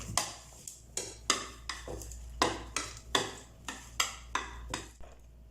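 Shallots stirred with rock sugar and pepper powder in a bowl, a spoon knocking and scraping in a steady rhythm of about a dozen sharp clinks, close and fairly quiet with no talking.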